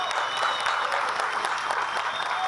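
Steady applause from a crowd, sustained clapping throughout with no break.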